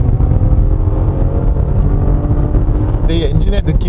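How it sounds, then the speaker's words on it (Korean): The turbo V6 engine of a 2018 Maserati Levante drones loudly and steadily on a winding road, then the revs climb briefly near the end as it accelerates. "네, 터보 엔진 맞네요."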